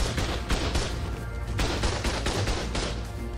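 Rapid automatic gunfire in ARK: Survival Evolved during a fight with an Alpha T-Rex: loud, continuous volleys of overlapping shots fill the whole stretch without pause.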